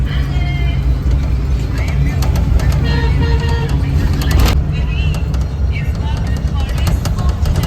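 Bus pulling out of the Dehradun bus station bound for Delhi, a steady low engine rumble with road noise and scattered clatter throughout, with people talking over it.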